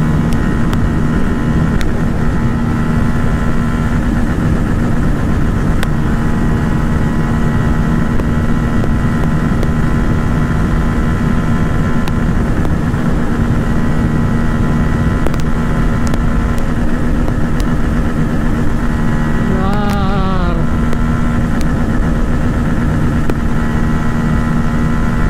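Motorcycles, including a Honda CBR 250R, Yamaha R15M and Bajaj Pulsar N250 and F250, race in a drag race, heard as a steady, loud engine drone with wind buffeting and a brief rising whine near the end.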